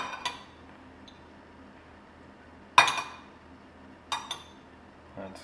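Serving spoon scooping green beans and almonds from a serving dish, a few sharp metallic clinks against the dish spaced apart over a quiet background.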